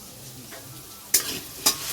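Potatoes frying in a home kitchen pan, a low steady sizzle with two sharp scraping stirs of a utensil against the pan, close and fairly quiet, with no talking.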